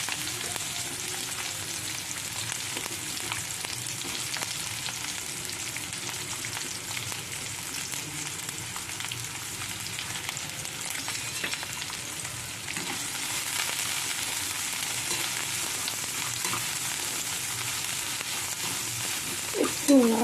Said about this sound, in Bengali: তেল গরম হয়ে গেছে, এর মধ্যে আমি ক্যাপসিকাম কুচিগুলোকে দিয়ে দেবো।